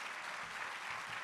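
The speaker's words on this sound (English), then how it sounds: "let's give them a nice round of applause." Audience applause at a city State of the City address, a dense, even wash of clapping from a crowd throughout the short clip.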